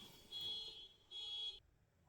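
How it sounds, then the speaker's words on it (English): A car alarm sounds faintly in the distance, two short, steady high-pitched electronic beeps with a brief gap between them, alone with no talk. "That's car alarm."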